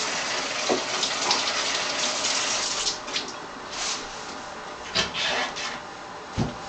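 Vegetables, Swiss chard among them, rinsed under a running tap in a home kitchen, with a steady broadband gush of water broken by a few louder splashes and clunks as the greens are handled, close and alone without talk.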